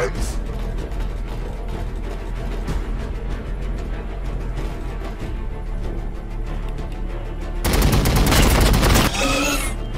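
Heavy fire-support gunfire in the Warhammer 40,000 Battlesector war game, a dense, rumbling barrage with booming impacts, then a loud, sustained burst of rapid fire near the end.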